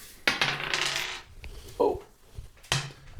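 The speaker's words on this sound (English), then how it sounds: "throw the dice." Dice tossed onto a board-game playing field clatter in a few sharp rattling bursts with small bounces, close and fairly crisp, followed by a brief settling knock and another quick rattle.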